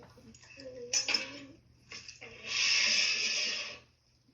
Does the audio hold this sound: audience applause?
no